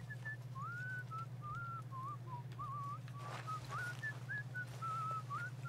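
A character in Red Dead Redemption 2 whistles a wandering, warbling tune at a camp, each short phrase rising and falling over a steady low background hum, faint and alone.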